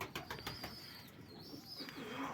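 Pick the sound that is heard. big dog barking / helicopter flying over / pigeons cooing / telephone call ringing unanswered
pigeons cooing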